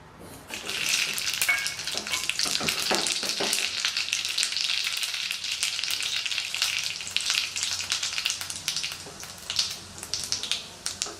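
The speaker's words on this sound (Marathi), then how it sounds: "तेल चांगले गरम झालेले आहे। आता आपण त्यात वरील साहित्य टाकणार आहोत।" Cumin and mustard seeds tempering in hot oil in a pan for coconut chutney, a loud, dense, close crackling sizzle that holds steady throughout and thins into scattered pops at the end.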